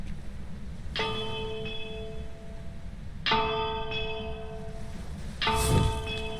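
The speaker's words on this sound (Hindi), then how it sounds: "अब बस इस घंटी को 3 बार बजाना है मुझे" A bell in the video game Phasmophobia rings three times, each strike a bright metallic clang with a long ringing tail, spaced a couple of seconds apart over a low background hum.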